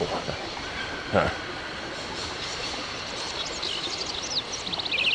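A train idles at a station in the Syberia video game, giving a steady rumbling, hissing ambience with a brief clank and faint metallic chirps toward the end, and no voices.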